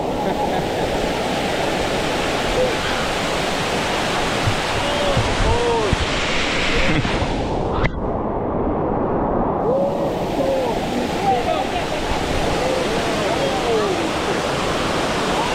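Dunn's River Falls in Jamaica, a loud, steady roar of cascading water close by, broad and continuous, with voices faintly audible beneath the rush.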